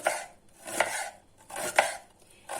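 An onion being sliced with a knife on a cutting board while preparing a Hatay-style dish, giving a few distinct cuts spaced about a second apart, close and fairly quiet, with no talking.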